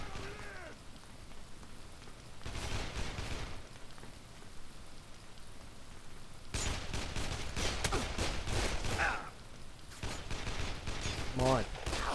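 Bursts of gunfire from Ryder in Dead Island Definitive Edition come in separate clusters of rapid shots, fairly quiet and distant, with brief snatches of a voice between them.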